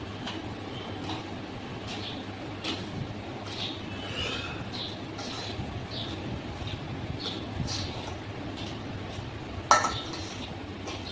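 Spice powders for Andhra mango pickle (avakaya) being stirred together in a bowl: soft, steady scraping and rustling, quiet and close, with light spoon clinks and one sharper clink near the end, and no talk.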